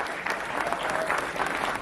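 Brief, dense burst of audience applause at a Bollywood awards ceremony, loud and steady clapping from a crowd filling the whole moment.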